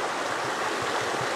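A stream rushes steadily near a waterfall at a gold prospecting spot, a close, continuous wash of flowing water with no voices.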